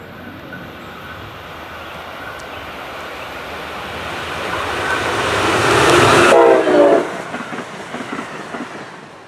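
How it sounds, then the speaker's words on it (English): An Amtrak passenger train led by locomotive 646 roars past a station, a loud broad rush that swells to a peak, then the clatter of wheels over the rails as it passes close by. "we saw an Amtrak train literally roar by the station"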